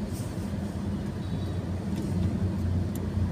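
Street traffic with trucks in Makati, a steady low rumble of engines and road noise, moderately close and continuous, with no voices over it.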